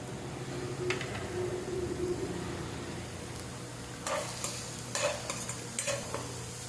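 Onion being sautéed in oil for prawn chutney, a low steady sizzle with several sharp scraping stirs of a spoon against the pan toward the end.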